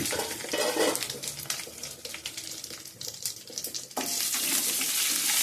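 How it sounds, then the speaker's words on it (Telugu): Green chillies spluttering in hot oil in a covered pan while cooking a puri curry, a dense crackling sizzle with clinks of utensils, growing suddenly louder and brighter near the end. "ఎందుకంటే అందులో గింజలు నూనెకి టపటపమంట పేలు ముఖం మీద పడతాయి అన్నమాట"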